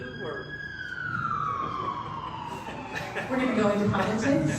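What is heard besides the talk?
emergency vehicle siren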